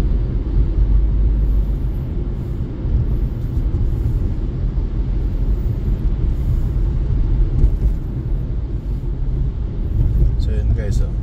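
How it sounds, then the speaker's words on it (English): Road traffic on a rainy day, with a steady low rumble of passing vehicles and engine noise close by, continuous and fairly loud. "nagta-traffic na naman dito."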